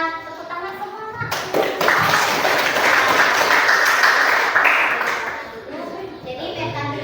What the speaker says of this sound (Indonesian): Sudah tepuk tangan semua